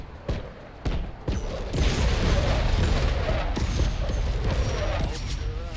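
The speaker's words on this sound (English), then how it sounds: "they're gonna take that chain gun in the face" Rapid chain gun fire in a war video game, a dense sustained burst of loud repeated shots with booming impacts, starting with a few separate blasts and then rolling continuously throughout.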